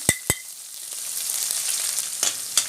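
Curry leaves and green chilies drop into hot oil and crackle into a continuous sizzle, broken by a few sharp pops and spatters near the start and near the end.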